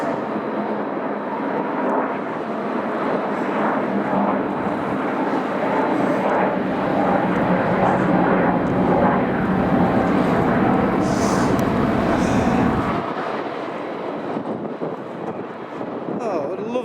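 Airbus A320neo jet at Manchester Airport, a broad roaring engine noise with wind buffeting the microphone, swelling and then dropping away toward the end, with people talking over it.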